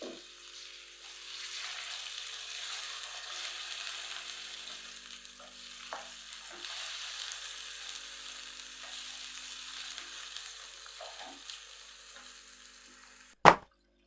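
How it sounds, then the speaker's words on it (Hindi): Chicken pieces fry in about three tablespoons of cooking oil in a pan for a pizza topping, a soft steady sizzle with occasional stirring clicks, ending in a sharp loud knock. "उसके अंदर अपनी चिकन डाल देंगे। इसको हल्का सा फ्राई कर लेंगे।"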